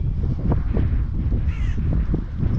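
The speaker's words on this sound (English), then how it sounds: "crows in a minute" A crow caws once in the distance over steady wind buffeting the microphone, brief and fairly faint against the rumble, in Troon.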